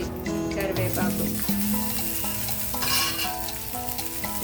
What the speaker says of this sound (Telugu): వెల్లుల్లి వేగిన తర్వాత ఇదిగో జీలకర్ర, ఆవాలు, ఎండుమిర్చి, కరివేపాకు